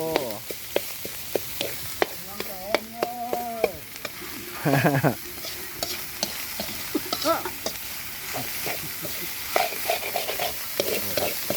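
Bird meat stir-fried dry in a pan, a steady sizzle with intermittent scraping stirs, while voices and background calls sound throughout.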